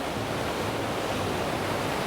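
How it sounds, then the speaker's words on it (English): A heavy rush of river water pours through in a continuous, even roar, steady and broadband with no breaks, carrying through a fall day in Baxter State Park. "it's a lot of water just hammering through"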